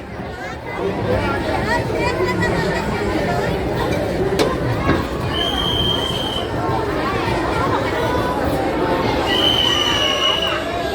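Dense crowd chatter fills a busy fair at Bhiwandi's Disneyland, a continuous steady murmur of many voices, with brief high squeals from rides cutting through now and then.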